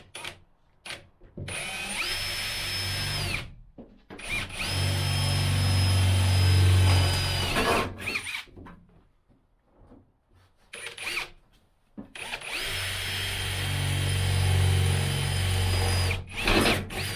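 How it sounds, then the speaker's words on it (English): A power drill bores out spot welds on a van body's metal strengthening bars, three loud whining bursts of several seconds each with the motor pitch shifting under load, separated by brief pauses. "Dave's going to drill these spot welds out to relieve these strengthening bars"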